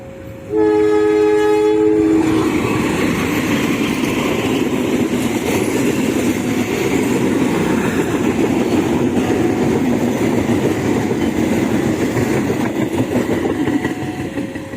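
A train horn blares with stacked tones at the start, then a loud, steady rumble as the Doho Penataran passenger train, hauled by locomotive CC2017709, rolls close by into Mojokerto station.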